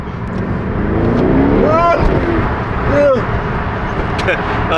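Straight-piped Lamborghini accelerating hard from inside the cabin, a loud continuous engine roar with rising revving sweeps, heard close under excited voices.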